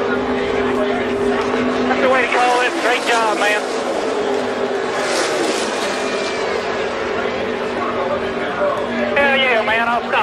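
Xfinity Series stock cars roaring toward the checkered flag on a final corner, a loud continuous engine drone with rising and falling pitches as cars pass, under excited race commentary throughout.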